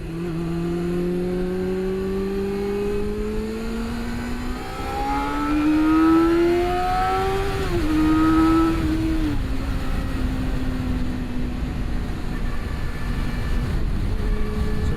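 A 1988 Yamaha FZR400 EXUP four-cylinder motorcycle engine on an open road, close and steady, its whine climbing in pitch through the gears before settling into an even drone with no talking.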